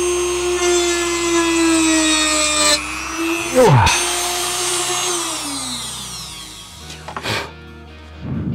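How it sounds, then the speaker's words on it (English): A Dremel rotary tool cuts in short bursts during a pickup part replacement, giving a loud high whine that starts, slows, drops in pitch and stops, then restarts briefly, with grinding contact noise. "Biggest problem with this Dremel is you have to keep cutting it in really small increments."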